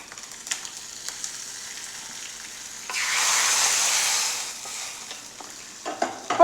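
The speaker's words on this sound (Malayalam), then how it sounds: "അപ്പോൾ നമുക്ക് കടുവും പറങ്കിയും വറുത്തത് നമുക്ക് പച്ചടിയിലേക്കൊന്ന് ഒഴിച്ചു കൊടുക്കാം." Hot oil with fried mustard seeds and red chillies is poured over ash gourd pachadi. A soft background stir and crackle swells into a loud, hissing sizzle for about two seconds, then fades to scattered pops, with no voices.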